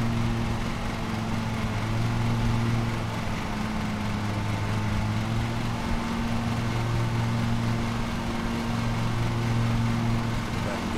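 A lawn mower engine in the game Lawn Mowing Simulator runs steadily with a loud, constant droning hum that rises and falls slightly in pitch, heard alone without talking.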